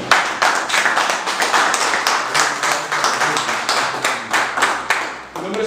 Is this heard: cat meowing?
no